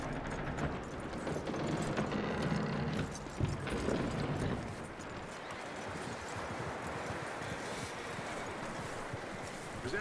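Horse hooves clip-clop steadily in Red Dead Redemption 2 gameplay, a regular rhythmic patter of footfalls over a wide ambient outdoor bed, moderately close and continuous with no talk.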